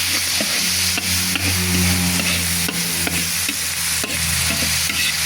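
Tomatoes are added and stirred into pakbet in a pan, giving a loud, close, continuous sizzle with steady utensil taps and scrapes marking the stirring rhythm.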